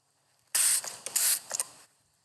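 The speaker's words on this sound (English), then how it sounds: "Oh, that's some sort of spray." A spray bottle spritzes in a few sharp hissing bursts, one long puff followed by shorter ones, close and clear against a quiet background.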